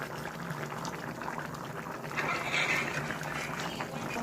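Fish curry with mustard paste bubbling at a steady simmer in a pot, a soft continuous boil of moderate loudness with no talk.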